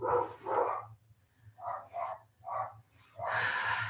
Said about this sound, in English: We'll wait till the dogs stop barking.